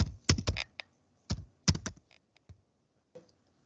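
Quick keystrokes on a computer keyboard during a Linux disk-management command, with a burst of clustered taps, a pause, a second flurry, then a few scattered final clicks, close and clear.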